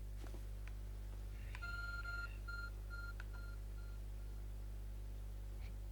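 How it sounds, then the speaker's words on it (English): A glowing beeping object resembling a phone in Pokemon Legends Arceus, giving a faint series of short evenly spaced electronic beeps over a steady low hum, with no talk. "There's a glowing beeping object over there."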